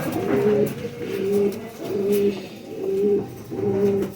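Faqeer Gul pigeons, a crested breed, coo in five evenly spaced, resonant phrases, each a low rolling call repeated about every 0.9 seconds, close and clear with no talking.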